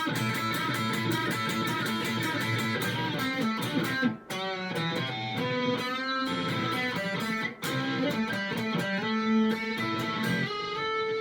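A busy, distorted electric guitar line plays a fast melodic solo over a full band backing, with two brief dropouts midway.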